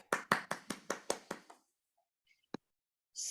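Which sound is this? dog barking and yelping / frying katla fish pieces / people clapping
people clapping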